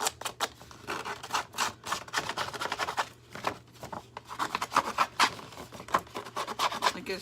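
Repeated rough scraping and rasping strokes as a tool distresses the edges of a handmade journal cover page, close up, in an irregular rhythm with brief pauses, no voices.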